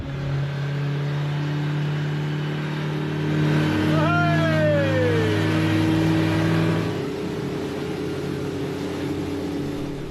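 A boat's outboard motor runs steadily at a rocky seaside reef, a constant engine drone with a brief rising whine in the middle, loud and close throughout.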